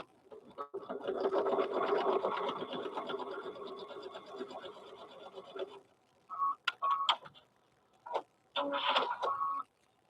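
A sewing machine stitches the top seam of a fabric bear, running in one long steady stretch of about five seconds, then a few short stop-start bursts, close and moderately loud.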